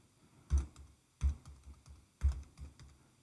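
Keys on a computer keyboard clatter in three distinct bursts of typing, close and fairly clear against a quiet room, while references are entered into a Word document.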